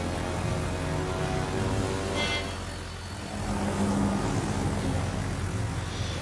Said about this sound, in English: we're going to launch our little planes here